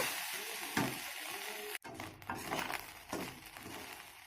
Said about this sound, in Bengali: ব্ল্যাক পেপারটা দিয়ে ভালো করে নেড়ে ছেড়ে নিলাম এবার তিন চার মিনিট এভাবে নেড়ে ছেড়ে নেব